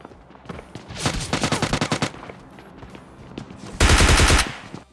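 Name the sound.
gunfire in PUBG Lite video game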